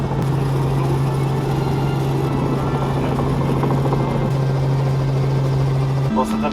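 A passenger helicopter coming in to land: a loud, constant rotor and engine drone with a steady humming tone that shifts pitch slightly near the end, heard from inside the cabin.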